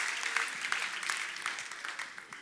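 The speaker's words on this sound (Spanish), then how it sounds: "denle ese aplauso al Señor" Audience at a women's church retreat applauds in a dense, continuous burst of clapping that starts strong and tapers slightly over a couple of seconds, with no voices on top.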